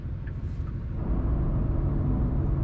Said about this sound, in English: You can even hear the turbocharger huffing away on the downshifts there.